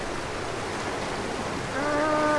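Water rushes steadily over a waterfall in the Archeage video game, a dense, continuous hiss that grows slightly louder near the end, where a faint tonal sound joins in.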